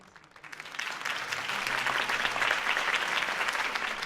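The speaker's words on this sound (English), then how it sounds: "If only Mr. Wayne, my campaign's largest backer, could have heard that applause" A crowd at a political campaign rally in the video game Batman: The Telltale Series breaks into applause, swelling quickly from quiet into steady, sustained clapping that carries on to the end.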